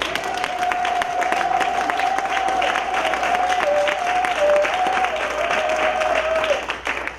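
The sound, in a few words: congregation applauding and cheering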